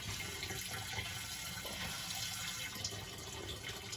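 Water pours steadily into a motorhome's tank, a constant close hiss and gush with no break and no voices.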